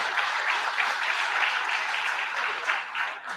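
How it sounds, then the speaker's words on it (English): A room of people applauding a student at a career signing day event, the clapping dense and continuous at a steady moderate level from start to finish, with no voice over it. "let's give Riley a round of applause"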